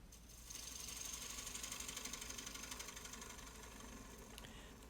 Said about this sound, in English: I'm going to bring my bowl gouge over and clean that recess out.